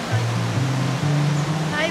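Steady broadband rush of river water flowing near Villa Caseca in Puerto Princesa, Palawan, loud and continuous, with a voice talking over it throughout.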